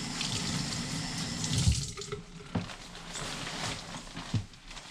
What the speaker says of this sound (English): So just in the sink, we're gonna wet the area that is in question.